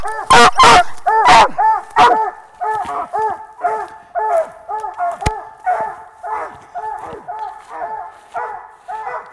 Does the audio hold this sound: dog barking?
yes